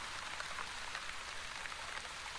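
Steady rain falls in the video game The Wandering Village, a continuous even hiss of drops with no talk over it.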